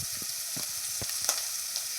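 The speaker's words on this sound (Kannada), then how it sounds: "ಇದನ್ನು ಚೆನ್ನಾಗಿ ಫ್ರೈ ಮಾಡೋಣ." Masala for soya manchurian gravy fries in a pan, a continuous hiss with light stirring taps and soft spatters, fairly quiet and close, with no voices.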